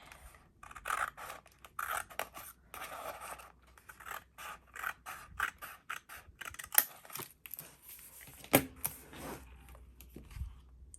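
Scissors snipping paper for a vintage detective art journal, a series of close, crisp cuts and rustles with brief pauses between strokes.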